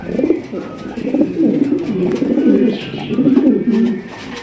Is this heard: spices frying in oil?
no